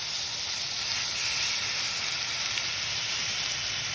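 Fajita-style vegetables seasoned with paprika, lemon pepper, onion powder and garlic powder sizzle in a hot pan, a close, even hiss of frying that holds steady throughout with no talking.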